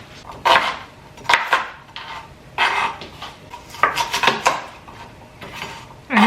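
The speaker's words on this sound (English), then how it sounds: "I know there's a much easier way to cut an onion" An onion is chopped with a knife on a board, making a few uneven clusters of close, sharp cuts and scrapes separated by short pauses.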